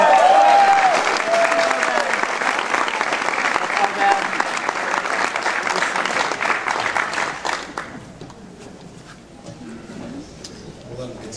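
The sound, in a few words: audience applause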